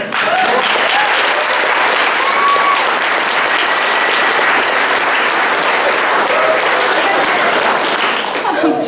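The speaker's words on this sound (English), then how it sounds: "two twins who's at the table here, Morris, just started clapping along with you." Steady, dense applause from a holiday party fundraiser audience fills the room, continuous and loud for the whole stretch with a faint crowd murmur beneath.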